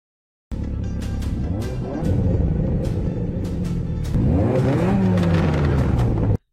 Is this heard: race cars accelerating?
yes